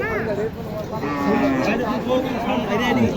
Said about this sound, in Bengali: এই যে একটা গরু